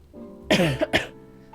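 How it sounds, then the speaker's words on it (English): Two quick, close coughs, a throat-clearing hack followed by a sharper second cough, with no talking around them. "Nice cough at the end there."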